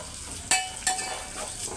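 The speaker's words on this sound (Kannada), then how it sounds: "ಈಗ ಇದು ಒಗ್ಗರಣೆ" Hot tempering for churumuri crackles and sizzles in short bursts, with two sharp spitting pops close by over a low background.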